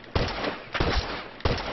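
Three heavy rifle shots in The Last of Us multiplayer, spaced irregularly with short booming tails, loud and close with no talk.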